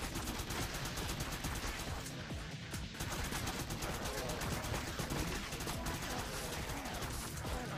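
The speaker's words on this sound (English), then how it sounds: "I got a weapon power up, so I'm shooting faster" Rapid, dense gunfire from the top-down shooter Crimsonland with a weapon power-up, a loud continuous barrage of overlapping shots that runs unbroken for the whole stretch.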